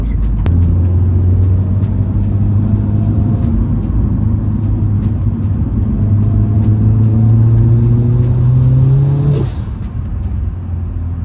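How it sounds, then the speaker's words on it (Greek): A VW Scirocco DSG engine with a big turbo, about 600 hp, hums loudly with a faint rising turbo whine layered on top, building steadily before easing off near the end. "μήπως το σπουλάρισμα είναι τέρμα ακραίο, ακούγεται"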